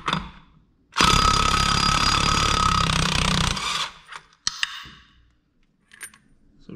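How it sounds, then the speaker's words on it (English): An impact wrench with a 30mm socket hammers off the large crankshaft nut on a BMW K1200 motorcycle, a loud close burst of rattling impacts for nearly three seconds, followed by clinks of metal parts being handled. "we're just using an impact with a 30mm socket."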